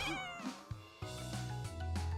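A cartoon cat mewing in a rising, whiny series of meows over a musical score, close and clear with no talking.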